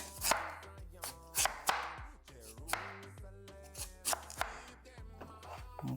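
Knife chopping squash on a cutting board in a home kitchen, a series of crisp, irregular thuds close by, loud and alone with no talk.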